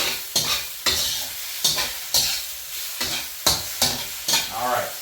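Vegetables and meat for drunken noodles are stir-fried in a hot pan, sizzling throughout with regular scraping tosses of the spatula about every half second.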